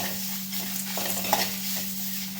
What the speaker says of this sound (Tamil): இப்போ தேங்காயை ஆட் பண்ணி தேங்காய் பொன்னிறமாக வர வரைக்கும் கொஞ்சம் வதக்கணும்.